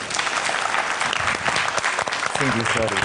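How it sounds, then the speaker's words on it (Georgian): Studio audience on a Georgian money quiz game show breaks into sustained, loud applause that fills the whole stretch, with a voice briefly speaking over it near the end. "აპლოდისმენტები."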